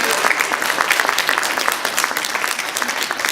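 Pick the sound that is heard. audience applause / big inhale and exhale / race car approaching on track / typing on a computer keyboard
audience applause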